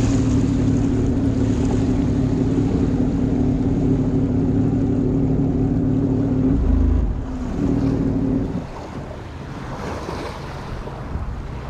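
A Sea-Doo Spark jet ski runs over water with a loud, steady engine drone mixed with wind and splashing, then the motor eases off and drops quieter near the end.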